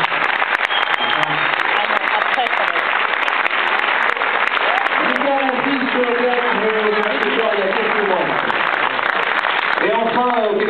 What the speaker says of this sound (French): il s'appelle Harry Habitant, je voudrais qu'on l'accueille et qu'on l'applaudisse très fort.